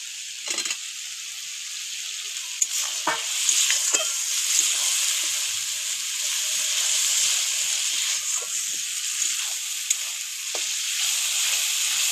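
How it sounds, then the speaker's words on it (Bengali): Ripe tomato and spice paste stir-fried in a pan for a river fish curry, giving a steady bright sizzle with intermittent scraping stir strokes and no voices. "খুব ভালো করে মশলাটা কষে নেব এর মধ্যে পাকা টমেটোটা দিয়ে দেবো"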